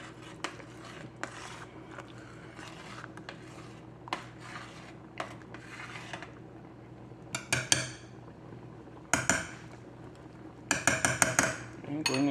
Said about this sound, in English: you do need to stir this so that it doesn't stick to the bottom of your pot